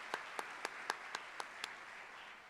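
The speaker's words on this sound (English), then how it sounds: "So let's do another round of applause" Faint applause at the Marion County Golden Apple awards for a school district committee, heard as about seven separate, evenly spaced claps fairly far away before the sound fades.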